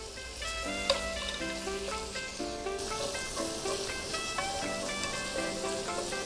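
Chopped and minced shrimp sizzle in bubbling butter in a stainless steel pan, a steady, close frying hiss that runs throughout beneath tonal background music.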